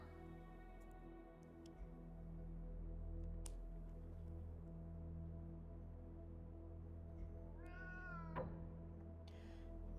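A cat in the video game Moonscars gives one clear rising meow near the end, heard over a steady humming game soundtrack with faint ticking.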